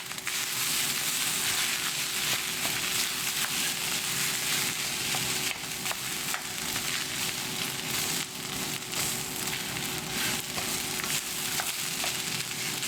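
A thick curry is stirred while it cooks to break up the lumps, with a constant loud sizzling hiss and a scraping, stirring texture running through it.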